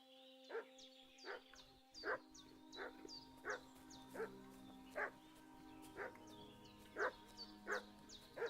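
A dog in the video game Kingdom Come: Deliverance 2 barks at a steady rhythm, about one bark per second, from a moderate distance over a low ambient hum, with no talk during it.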